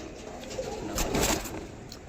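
Soft, low cooing from Mesuya Dobaj male pigeons, close by against a steady background hiss, swelling briefly midway.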